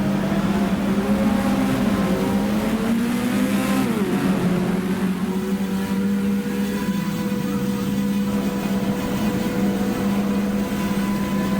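Engine of the Tyrrell P34 six-wheeler Formula 1 car in F1 Challenge, racing the Swedish Grand Prix: a steady, loud high-pitched drone that rises and dips slightly as revs shift, continuous and without speech.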